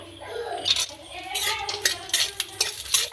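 Cashews and raisins fry in ghee, a steady sizzle with repeated clinks and scrapes of a spoon stirring against the pan, fairly close and continuous with no talking.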